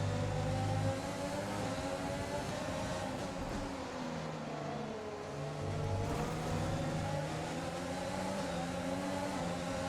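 Formula 1 car engine in F1 2020, racing on a wet track, a steady loud high-revving whine with shifting pitch as the car accelerates and lifts, continuous and close throughout.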